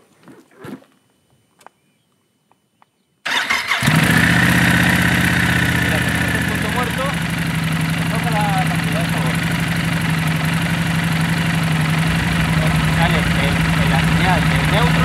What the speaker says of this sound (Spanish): Ahora voy a arrancar la moto y la voy a poner en punto muerto.